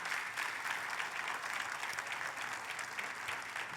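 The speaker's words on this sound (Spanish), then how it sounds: "Denle un fuerte aplauso al Señor esta tarde." A church congregation claps together in sustained, even applause, a dense wash of hand claps filling the room.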